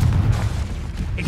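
A Confringo spell explosion in Hogwarts Legacy, a short heavy low boom with a thumping burst that lingers briefly, loud and close.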